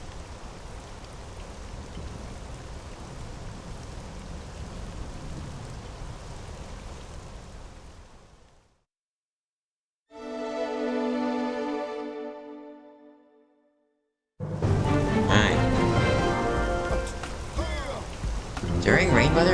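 Steady rain in the video game Xenoblade Chronicles X, a broad hiss that runs for several seconds, cuts out, then returns louder alongside game music.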